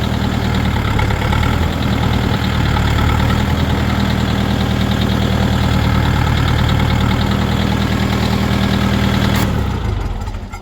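A small 40-horsepower mini tractor engine runs steadily at close range, a loud, even diesel chug that cuts off abruptly near the end.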